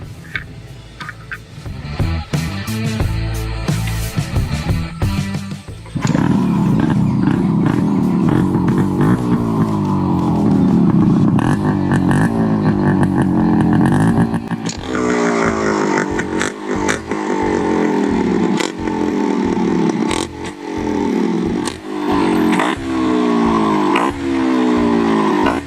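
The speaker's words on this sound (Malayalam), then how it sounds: "ഇനി നമുക്ക് വണ്ടിയുടെ സൗണ്ട് കേൾക്കാം." A Yamaha RX 135 five-speed motorcycle, fitted with an RX-115 part, runs nearby with a loud two-stroke engine, idling with a rapid pulsing beat and revving up repeatedly in strong bursts.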